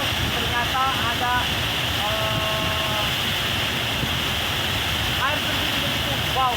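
A waterfall roars as a steady, loud broadband rush behind a lake, filling the whole clip, with brief higher chirps and a voice-like tonal sound passing over it.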